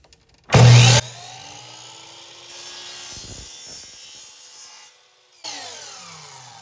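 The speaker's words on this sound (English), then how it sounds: "I'm going to sand off this sharp point right here." Sharp point on a homemade plastic seed dispenser being sanded: a loud burst of grinding at the start, then a steady motor-like whine and rubbing, ending with another short burst of friction noise.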